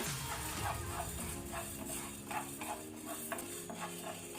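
Urad dal dry roasting in a pan over a low flame, with soft scraping and stirring strokes repeating at a steady rhythm and a faint sizzle underneath, close and quiet, no talk.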